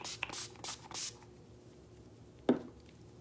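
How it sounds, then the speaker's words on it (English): Finishing setting spray is misted onto a face, with several quick, close hissing bursts in a row, a pause, then one more short spritz. "I spray twice, just so you know."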